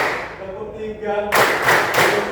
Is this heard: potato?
no